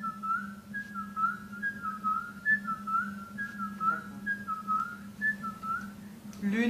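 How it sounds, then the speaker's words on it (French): Person whistling a simple melody of short, evenly spaced notes over a low steady hum, fairly faint and close. "sifflet."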